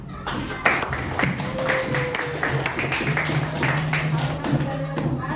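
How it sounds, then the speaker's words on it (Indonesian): Classroom applause during a teacher-training lesson, with a burst of quick, irregular hand claps from a group, heard close and mixed with people speaking over it. "Ini tepuk yang meriah"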